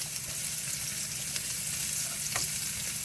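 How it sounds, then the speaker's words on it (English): Carrots sauté in a pan, giving an even, close hiss of sizzling oil with occasional light clicks of a spatula, steady throughout and free of voices. "We're just gonna saute these carrots because it's gonna taste so delicious when the meat goes in."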